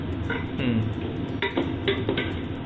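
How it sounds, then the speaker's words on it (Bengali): A spoon scraping and clinking against a metal pot while salted rice is stirred for a homemade chicken dum biryani, with a few light knocks spread over a soft, steady background. "নুন দিয়ে ভাতটাকে আমি ভালো করে নেড়ে নিলাম"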